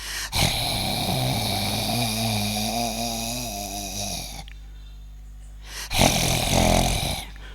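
A human voice imitates a dog growling deep in its throat, a loud rasping rumble sustained for several seconds, a short pause, then a second harsh burst.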